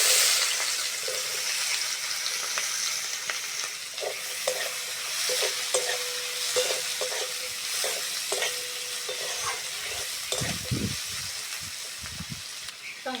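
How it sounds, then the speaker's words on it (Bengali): Chopped onion fries in oil with a constant close sizzle and hiss, punctuated by repeated scraping and tapping stirs that grow busier toward the end; no one talks. "এবার ওই তেলের মধ্যে কুচনো পেঁয়াজ দিয়ে দেবো।"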